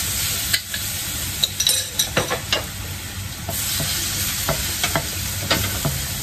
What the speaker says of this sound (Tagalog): pag maiinit na po yung mantika natin, eh, magigisa na po tayo. Unahin ko po yung garlic,